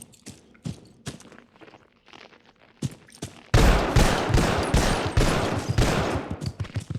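Gunfire in the Vietnam War shooter Vietcong, underground city level: scattered single shots and short bursts crack at close range, then a loud, sustained machine-gun fusillade rattles on without pause.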